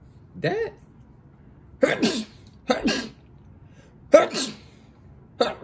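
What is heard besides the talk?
sneeze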